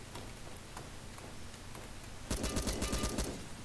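Rapid gunfire from the video game Blackhawk, a dense burst of repeated shots that starts abruptly partway through and runs to the end over a steady low background rumble.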